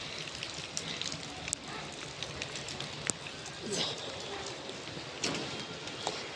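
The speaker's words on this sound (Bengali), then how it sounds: "বৃষ্টিতে যে ভিজতেছি, জানি না কি হয়।" Rain falls steadily outdoors in a rural setting near jackfruit trees, a continuous patter with scattered louder drips close by.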